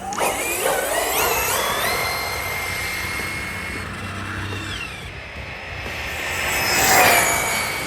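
A high-revving electric whine from an Arrma Talion EXB RC car running at full throttle, a steady buzzing drone that sweeps in pitch as it passes, swelling loud near the end with no talk.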